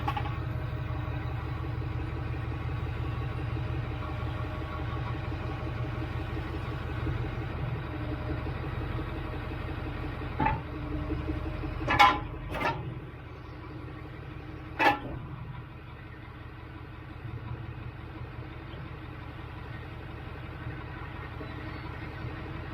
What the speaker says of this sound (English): Just going to quickly power out the Spec so you can see it going out